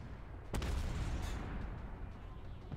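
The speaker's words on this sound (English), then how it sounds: "Artillery away." Artillery fire in the Armored Warfare tank game: a sharp, loud boom near the start followed by a sustained low rumbling battlefield roar, with another fainter thud at the end, no talk.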